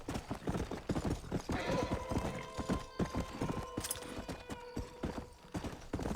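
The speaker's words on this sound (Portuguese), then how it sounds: "é tão difícil tipo um gajo conduzir o cavalo neste jogo" A horse gallops in the video game Red Dead Redemption 2, its hooves beating a quick, steady clip-clop throughout, fairly loud and close, with faint tonal game sounds layered underneath.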